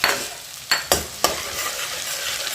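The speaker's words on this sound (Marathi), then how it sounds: "तूप तापलं की गॅस बारीक करायचं आणि डिंक तळून घ्यायचं." Edible gum pieces fry in very hot ghee over a lowered flame, giving a steady crackling sizzle broken by three sharp pops or clatters early on, with no voices.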